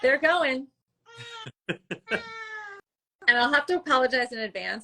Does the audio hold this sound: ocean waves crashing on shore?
no